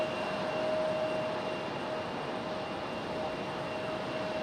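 A JetBlue Airbus A320 in Unity livery preparing for departure at Raleigh-Durham International Airport in stormy weather: a faint, steady distant jet engine hum with a thin tonal whine that stays constant throughout, with no voices.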